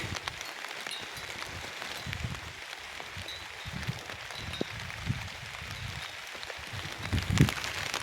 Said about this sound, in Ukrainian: У нас пішов хороший дощик.